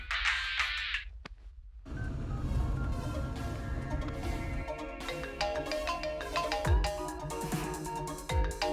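A phone gives a short, bright ringtone burst at the start, then falls silent as dramatic film music takes over.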